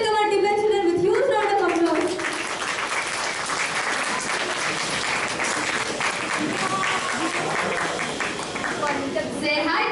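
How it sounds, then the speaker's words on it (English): Sustained applause from a crowd welcomes children onto a stage at a school event, loud and continuous, with a voice speaking over it at the start. "Let's welcome our DBA children with huge round of applause."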